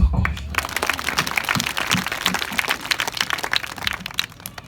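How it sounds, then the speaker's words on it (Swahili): Applause from a crowd at an outdoor gospel crusade in Arusha. Claps come dense and uneven, starting loud and thinning slightly over a few seconds, with faint voices underneath. "Mpigie Yesu makofi."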